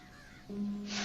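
Scavenger birds, crows, give a single brief harsh caw at a moderate distance, alone against a quiet background.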